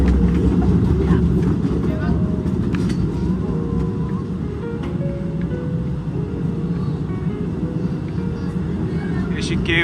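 A tour train runs through Postojna Cave with a loud, steady, low rumble that fills the whole stretch, with faint clanks and murmuring voices above it.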